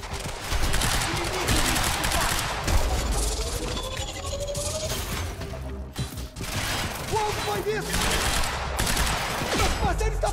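Rapid bursts of gunfire in the video game Quantum Break crackle steadily over a dense, noisy background, with a brief lull near the middle before the shooting resumes.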